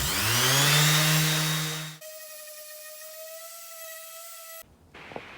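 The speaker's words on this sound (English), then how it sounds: "Time to sand it. 320." Power sanding an epoxy coffee table of cherry live edge with turquoise epoxy at 320 grit: a loud whirring sander spins down after two seconds, then a quieter steady tonal hum, ending with brief clicks.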